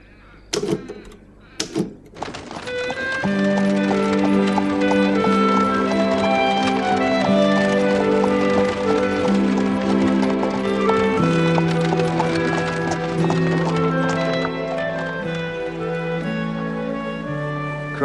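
Horse hooves clip-clopping on a street in a 1980s drama, the steady hoofbeats starting after a few sharp knocks and carrying on under a continuous musical score.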